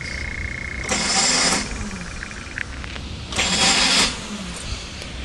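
A 1993 vehicle engine with a busted flywheel cranks in two separate bursts, each about a second long, with a harsh whirring grind that fails to catch, heard up close over a quiet background.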